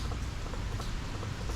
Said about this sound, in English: Don't mind the rain though.